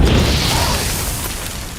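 A bomb goes off in The Witcher 3, a loud low boom right at the start that rolls into a long, steadily fading rumble with no voices over it.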